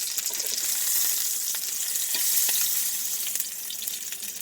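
Olive oil and rendered lamb fat sizzle and spit in a pan used for lamb chops, a loud continuous close-up frying crackle with small pops throughout.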